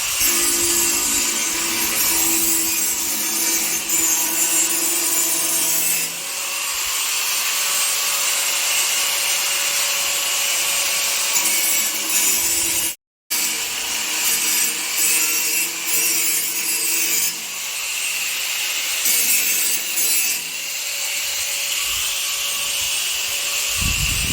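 A steady grinding, rasping machine drone runs almost without pause, with a brief cutout midway before the harsh whirring resumes.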